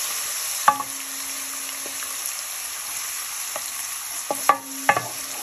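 Garlic frying in a pan: a steady, even hiss of hot oil fills the whole stretch, with a few sharp metallic taps from a utensil against the pan.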